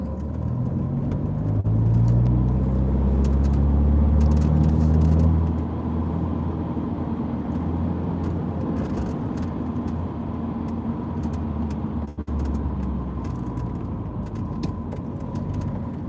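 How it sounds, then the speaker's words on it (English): Steady road traffic with cars passing close by, a loud low rumble of engines and tyres swelling over the first few seconds, then continuing as a constant wash of passing vehicles. "Traffic's horrendous."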